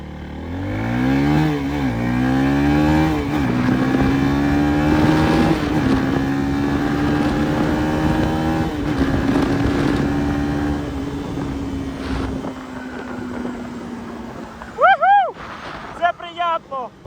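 A Lifan SR 220 motorcycle accelerates hard through rising gear changes for a top-speed run, engine loud and close with steady wind rush, then cutting out near the end as brief voices and squeaky sounds follow.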